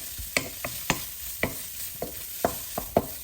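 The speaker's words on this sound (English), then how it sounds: "Gonna stir it a little bit." Lamb stir fry with onion powder and steak seasoning blend being stirred in a pan, a series of sharp, rhythmic scraping strokes of the utensil over a light constant sizzle, close and fairly loud.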